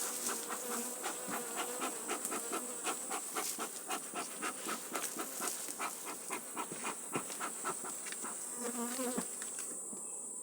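Honey bees buzz continuously around beehives at an apiary, a dense, close hum with individual bees droning past, heard alone without talk.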